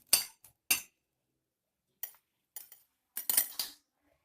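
A spoon clinks against a metal bowl while tamarind juice is stirred into pieces of elephant yam, giving a few sharp, close taps in short irregular bursts with quiet pauses between them.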